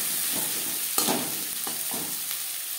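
Chopped onion and tomato frying in oil in a kadai, a continuous sizzle broken by a few stirring scrapes, one louder clatter near the middle, no voices.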